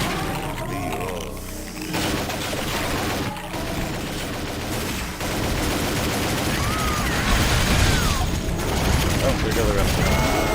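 Shotgun and other gunfire in a video game, heard as dense, overlapping blasts and crashes that go on throughout, loud and busy, with a voice talking over them at times.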